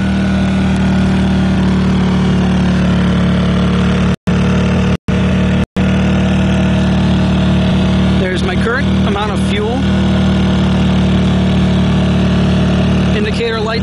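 A portable generator, Generac or Honda, running under heavy load while charging a Tesla, giving a steady loud engine hum and drone throughout. The sound drops out briefly a few times and a person speaks over it later.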